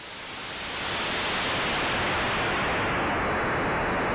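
An AE Modular noise module's dense hiss swells in and holds steady while its rate knob is turned, sweeping whistling tones drifting downward across the loud, continuous noise.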